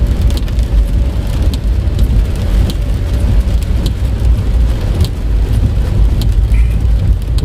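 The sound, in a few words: light rain while driving a Toyota Calya in traffic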